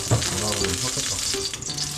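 Cooked rice with a little garlic is stirred in a hot frying pan for fried rice, giving a constant close sizzle with soft scraping and tossing sounds throughout.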